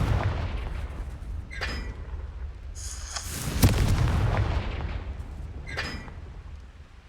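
Spell blasts going off in Hogwarts Legacy: a low booming explosion near the middle with a sharp crack, plus several smaller bursts before and after, loud against a rumbling game background.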